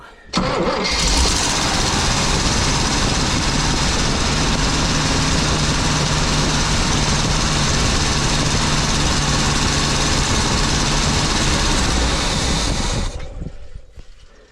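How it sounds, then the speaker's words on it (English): An old engine on a 23-foot Birchaven boat cranks and catches, then runs loudly and steadily at a rough, throbbing idle for about twelve seconds before cutting off abruptly, close up with no talking. "It's probably gonna try to start and probably won't run because I've got to get fuel to it"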